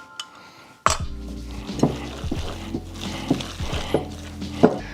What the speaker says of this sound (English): we're gonna go ahead and give it one more mix